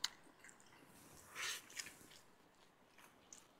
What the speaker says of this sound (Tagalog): Fishball, unang kagat.